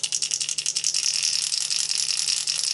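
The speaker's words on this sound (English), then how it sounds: "And then you can hear the smaller ones." Small rattle balls clatter inside a Daiwa Flat Flash crankbait lure as it is shaken rapidly, a bright, fast, continuous rattle close by that starts in quick pulses and blurs into a steady buzz.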